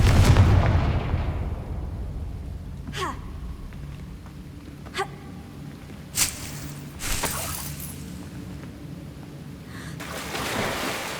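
A Confringo spell in Hogwarts Legacy sets off a deep rumbling blast, followed by several sharp cracks and bursts that fade into a low ambient hum.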